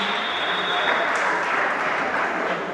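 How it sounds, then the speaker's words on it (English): An audience at a debate session keeps clapping for Mrs. Bimbo Benson, a dense, even wash of applause that continues without a break, slightly muffled and roomy. "Please keep clapping, Miss Bimbo Benson"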